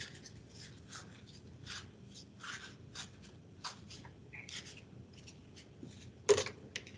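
A paper towel is folded and twisted to fit through a bottle cap in a water-filtration workshop, giving soft, close rustling and crinkling in repeated bursts, with one sharper crackle near the end.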